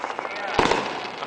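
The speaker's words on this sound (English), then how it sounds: "Quick last look at the big firework on the screen." A large public fireworks display from 2006 sends out a single sharp burst near the middle, standing out over a steady crowd murmur and background noise, with people talking throughout.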